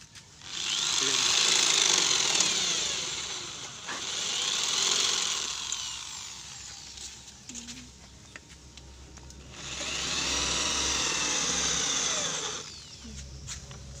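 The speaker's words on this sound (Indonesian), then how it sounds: "kemudian kita lubangi di meja tersebut. Ya, menggunakan tak lain yaitu bor yang akan dipraktekkan oleh saudari Anti." An electric drill whines in three sustained bursts separated by short pauses, fairly close, boring a hole in a table, with light clattering between runs.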